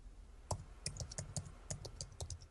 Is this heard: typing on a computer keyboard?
yes